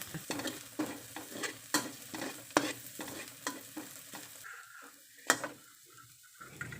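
A paste of garlic, coriander root and pepper fries in a pan for Thai palo, with rhythmic stirring scrapes over a steady sizzle. The stirring slows and quiets toward the end, and no voices are heard.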